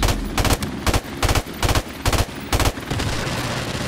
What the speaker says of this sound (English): Simba, this AK is too nice